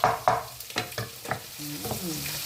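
Sliced bitter gourd (ampalaya) with egg is sautéed in a pan, with a series of close scraping stirs and clacks of a utensil over a soft sizzle, ending in a faint tonal scrape.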